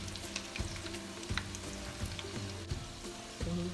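Onion rings fry in hot oil with a steady crackling sizzle, broken by a few louder bursts as pieces are turned in the pan.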